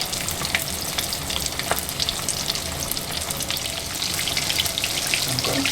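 Southern fried chicken pieces, four at a time, bubbling in hot oil in a pan, a dense crackling sizzle with sharp pops throughout, close and loud.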